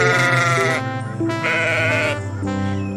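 A loud cartoon goat bleats in long, wavering cries, several calls in a row with a brief break between them, set against music.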